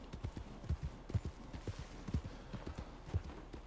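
Video game horse hooves clop in a quick, steady galloping rhythm in Red Dead Redemption 2, fairly quiet, with no talking.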